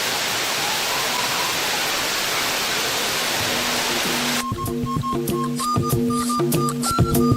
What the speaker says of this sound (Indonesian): air terjun ini bukan merupakan aliran sungai, tapi merupakan sumber mata air